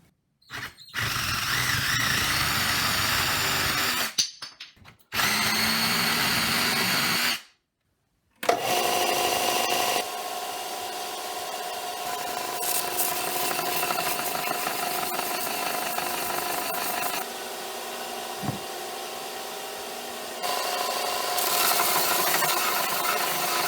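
Hand saw cutting a wooden dowel marked at 14 inches for homemade nunchucks, steady close back-and-forth rasping strokes broken by a few short pauses, then continuous sawing to the end.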